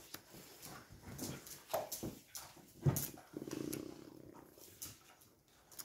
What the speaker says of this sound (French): on entend mes chiens